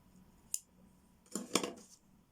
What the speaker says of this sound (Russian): Обрезаю ниточку.